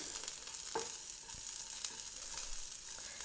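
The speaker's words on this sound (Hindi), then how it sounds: "फिर इसके बाद हम अपनी दो ग्रीन चिली जो हमने कट करके रखी थी वो डाल देंगे और इसको भी हम दस से पंद्रह सेकेंड कुक कर लेंगे" Green chilies sizzle and fry steadily in a pan with ginger and garlic, a soft continuous crackle with a few brief stirring scrapes, close and without any talk.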